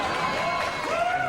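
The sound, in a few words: studio audience applause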